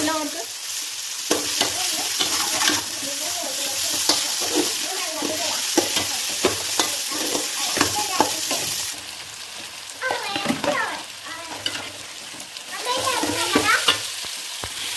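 Tomatoes added for biryani fry in a pan with a loud continuous sizzle, broken by frequent stirring clatter and scraping, with brief voices in the background.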